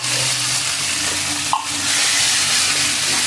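Corned beef fries in a pan with garlic and onion, giving a steady broadband sizzle with light stirring scrapes and one brief clank partway through.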